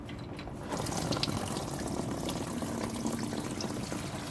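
Transmission fluid drains from a car, a steady trickling splash into a pan heard close and continuous, with faint mechanical clicks over the flow.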